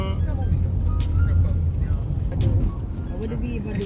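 Downtown street traffic in Jamaica: a loud, continuous rumble of cars and buses passing close by, with voices talking underneath the engine noise.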